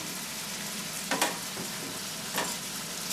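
Sheep backstrap meat sizzling in a hot pan, a steady crackling fry with a couple of brief louder spits and stirring sounds, close and alone.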